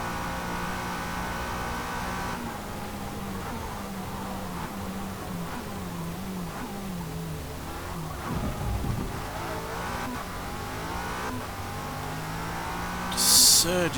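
Lotus Esprit V8 race car in Forza Motorsport at Le Mans, engine surging and climbing in pitch as it accelerates out of corners, steady loud drone with brief tire squeal near the end.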